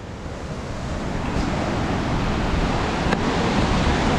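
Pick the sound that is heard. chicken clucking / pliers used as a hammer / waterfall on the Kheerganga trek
waterfall on the Kheerganga trek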